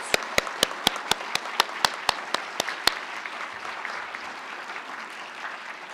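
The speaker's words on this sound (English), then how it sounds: "an applause." A public health hooding event audience applauds the graduating class of 2022; one person's loud, evenly spaced claps ring out over a softer crowd clapping that fades after about three seconds.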